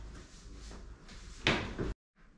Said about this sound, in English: So let's get this in the oven.